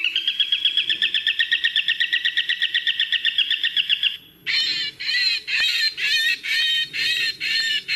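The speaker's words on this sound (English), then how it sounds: "Look at this next video clip of the hunting calls of falcons and hawks being played as how these birds fly away." Recorded falcon and hawk hunting calls blast from a drone's speakers at a large factory, first as a fast train of sharp repeated shrieks, then as louder, longer harsh bursts in a broken rhythm.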